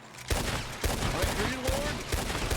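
Gunfire in the Western roleplay game RedM (Red Dead Redemption 2), a steady burst of repeated shots at fairly even intervals over a noisy battle background, with faint voices underneath.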